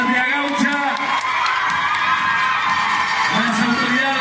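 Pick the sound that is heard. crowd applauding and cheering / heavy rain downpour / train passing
crowd applauding and cheering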